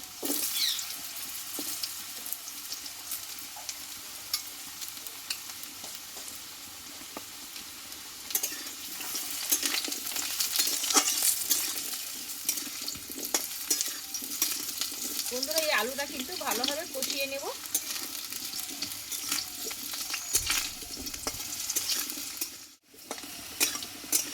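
Cut potato fries in white vegetable oil in a pan, a steady moderate sizzle with stirring scrapes and occasional louder crackles, while someone talks softly at times.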